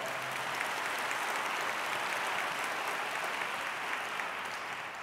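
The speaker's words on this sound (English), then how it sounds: "clap for that" Audience applause at a regional state-of-the-region address in Atlanta, a dense, even wash of clapping that holds steady and fairly soft throughout, tapering slightly at the end with no talk.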